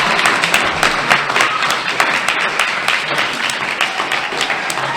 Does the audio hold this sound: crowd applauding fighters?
yes